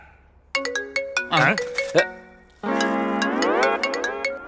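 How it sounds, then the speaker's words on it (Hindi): Mobile phone ringtone playing a bright melodic tune in two loud bursts, the second longer and continuous, with no talk over it. "भाई का रिंगटोन यहाँ बज रहा है।"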